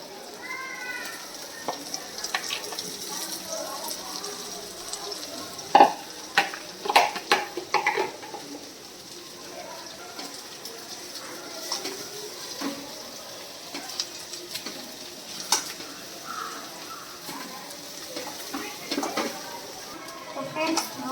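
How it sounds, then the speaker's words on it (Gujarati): Vegetables fry in oil for a Gujarati home-cooked dish, a steady sizzle punctuated by spoon clanks and scrapes against the pan. People talk intermittently over the cooking. "હવે થોડીક વાર આને આપણે તેલમાં કરવા દઈશું"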